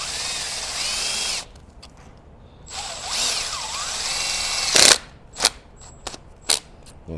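Power drill driving a screw into a plastic solenoid on a 6.4 HEMI engine, a loud whirring run, a pause, a second revving burst, then several short sharp clicks and pulses.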